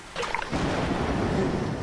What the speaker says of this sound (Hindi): बाहर तूफान अब भी बरस रहा है।